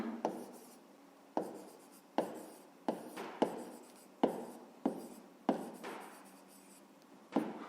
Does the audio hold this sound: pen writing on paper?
yes